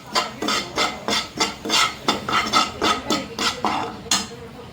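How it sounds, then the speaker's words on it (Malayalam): Coriander and turmeric powder are stirred into a tripe curry, a rhythmic series of about a dozen close scraping strokes of a spoon against the pan, with no voices. "ഇപ്പോൾ മല്ലിപ്പൊടിയും മഞ്ഞൾപ്പൊടിയും നല്ല രീതിയിലൊന്ന് മിക്സ് ചെയ്തെടുക്കണം"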